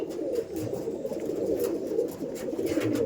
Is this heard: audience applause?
no